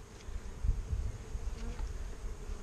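Honey bees buzz loudly while being shaken off a clean hive frame, a dense steady drone with a few low thumps near the start.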